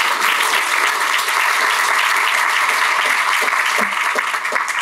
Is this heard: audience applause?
yes